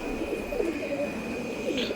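Breeding pigeons in a loft softly cooing, low murmuring calls against a quiet steady background with a faint high tone, no talk.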